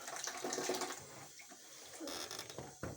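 Water rushes steadily from the open drain pipe of a Demirdöküm combi boiler that has an F0 pressure fault and is over-pressurised, making a continuous, fairly loud hiss and splash that swells and dips.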